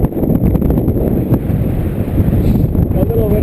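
Wind buffets the microphone atop a fire tower, a steady low roaring rumble with gusty swells lasting throughout, loud and close.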